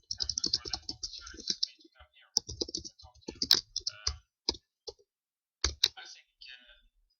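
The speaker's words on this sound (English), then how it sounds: "while we are listening to the lecture, we can then type in here." Notes being typed on a computer keyboard during a lecture, heard as bursts of close, crisp key clicks in uneven rhythm with short pauses between runs.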